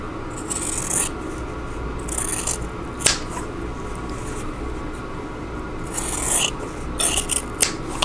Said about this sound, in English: I'm going to trim off the corners of these two.